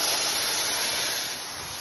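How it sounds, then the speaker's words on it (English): Palak methi paste of spinach and fenugreek hitting a hot spiced pan for Kashmiri methi chaman gives a loud, continuous sizzling hiss that eases slightly in the last moments. "Now I'm adding the palak methi paste into it."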